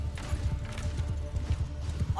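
Hooves of horse archers gallop in Mount & Blade II: Bannerlord, a rapid, rhythmic drumming of many hoofbeats rolling on continuously in a large battle.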